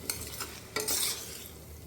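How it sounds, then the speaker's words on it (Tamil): Onions and tomatoes fry with masala in a pan at home, giving a steady close sizzle with a few scraping stirs of a spoon. No one speaks. "வெங்காயம் தக்காளி போட்டு வதக்கிட்டுருக்கேன்."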